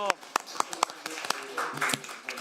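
Brief scattered clapping from a small audience at a legislative forum on local media, thanking a departing professor; sparse, uneven claps for a couple of seconds with voices talking over them.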